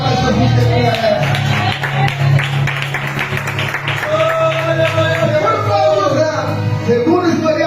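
Church congregation clapping and shouting in praise to Jesus during a worship service, dense sustained applause with whoops and voices mixed in, loud and continuous.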